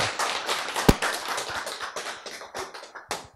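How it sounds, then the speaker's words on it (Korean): Lecture audience in a Korean talk on gene recovery and healing claps briefly, a quick burst of close hand claps that fades into a few scattered claps. "왜 박수 쳐요?"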